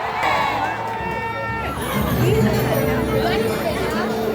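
A large crowd gathered in Davao City for Duterte's birthday fills the scene with steady babble and scattered movement, with someone talking over the noise nearby.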